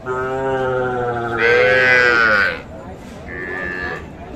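A bull calf at a cattle market moos loudly and close by in one long drawn-out call, followed by a shorter, quieter second bellow.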